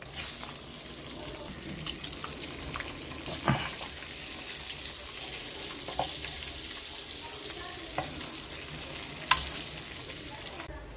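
Boiled eggs placed one by one into masala in a pan, with soft frying sizzle and occasional stirring clatter and thuds, fairly quiet and steady throughout, no speech heard.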